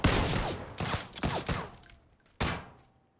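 Kar 98 bolt-action rifle fire in a video game: several sharp, loud reports at irregular intervals, each with a short reverberant tail, and a final crack after a brief lull before fading to silence.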